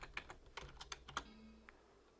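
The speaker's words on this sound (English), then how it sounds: "I just start typing a salesperson's name in the date cell, like Gil." Quick, uneven keystrokes on a computer keyboard while entering a salesperson's name into an Excel date cell, a short burst of crisp clicks that thins to a couple of final taps.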